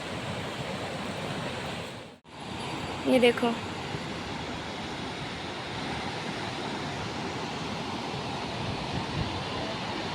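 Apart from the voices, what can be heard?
fast-flowing river water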